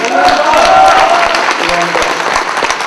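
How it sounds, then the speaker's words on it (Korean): Shareholders at a Kangwon Land annual general meeting applaud in a steady, dense wash of clapping that fills the room and continues throughout. "의견 없으시면 박수로 동의해 주시기 바랍니다"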